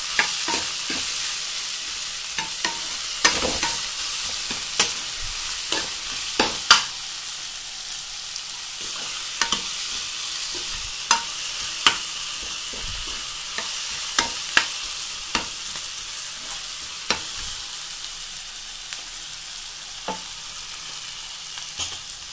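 Chopped tomatoes fry and sizzle steadily in a pan while a spoon stirs them, giving a string of sharp scraping clicks over a constant hiss, with no talking.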